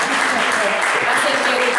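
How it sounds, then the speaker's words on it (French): Audience at a women's empowerment event clapping: a short stretch of dense, steady applause mixed with voices, fairly loud and close. "On applaudit pour nous."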